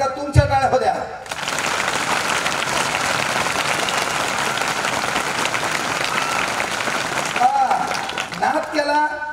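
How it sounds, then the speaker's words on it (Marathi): Loud, sustained applause from students at a career guidance speech event in Maharashtra, a dense wash of clapping lasting several seconds with a speaker's voice briefly at the start and end. "तुम्ही एकदा तुमच्या पालकांसाठी जोरदार टाळ्या द्या"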